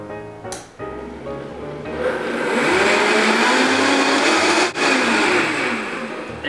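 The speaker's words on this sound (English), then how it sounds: "And we'll blend that up." A kitchen blender whirs up hot water, raw honey and other elixir latte ingredients, starting with short bursts, then spinning up into a loud steady roar that rises in pitch before cutting briefly and continuing.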